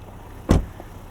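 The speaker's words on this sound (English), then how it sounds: "So watching the vehicle hunker down, gets a little bit lower, maybe about an inch." A 2023 Land Rover Defender 130 First Edition lowers its suspension to access height, with a single short, near thump and hiss of air, otherwise quiet.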